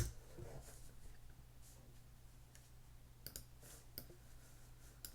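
Computer mouse clicks while dragging parts in a design program, a few faint, sharp clicks spaced apart over a quiet hum, no talk.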